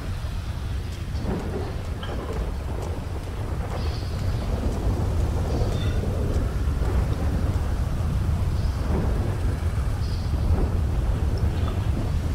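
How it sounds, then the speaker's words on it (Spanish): Thunderstorm in GTA V on PC: steady heavy rain fills the whole stretch, with low rolling thunder rumbles building and fading throughout, loud and continuous with no talk. "Mira qué tormenta."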